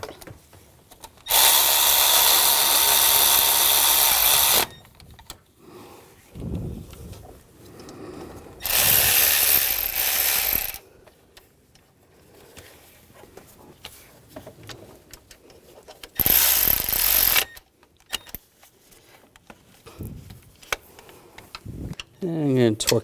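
Ratchet tightening the belt tensioner bolts on a 2000-2006 BMW X5 3.0L inline-six: long, loud, rapid clicking runs in three bursts, with someone talking close by during the pauses between them.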